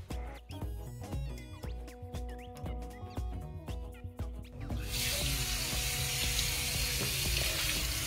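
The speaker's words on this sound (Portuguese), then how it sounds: "Agora eu tô enxaguando" Soapy hands are rinsed under a running tap. Dripping and splashing come first, then the water pours in a steady, close, full rush over the sink.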